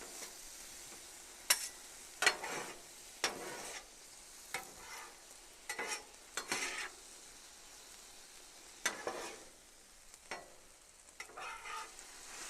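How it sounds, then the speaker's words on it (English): Sweet and sour chicken cooking on a griddle, a low sizzle broken by repeated spatula scrapes and stirring clatters at irregular intervals, close by with no talking. "then we'll let this simmer, and this will be ready to go"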